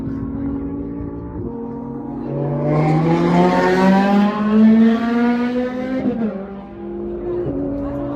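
A fast car on the Speed Vegas racing track roars through a turn, its engine note rising and falling with gear changes as it passes fairly close, with off-road trucks running somewhere far in the background.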